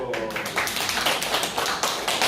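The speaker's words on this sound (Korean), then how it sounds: "박수" A small audience claps at a free demonstration centre in Yeomchang-dong during a product showing. The crowd applause is brief, dense and fairly loud, with rapid overlapping claps throughout.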